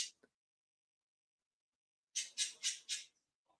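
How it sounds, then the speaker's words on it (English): Pet birds squawking indoors, a quick cluster of four sharp, faint high-pitched calls after one brief squawk near the start, with silence between. "My birds are going crazy."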